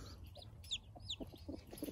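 Hen clucking softly over her chicks nearby, a few quiet low clucks mixed with faint high peeps in a calm, low-level setting.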